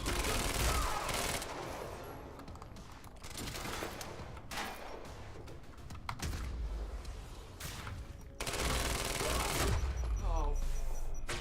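A shootout in Quantum Break brings rapid bursts of gunfire one after another, loud and sustained, with short pauses between volleys.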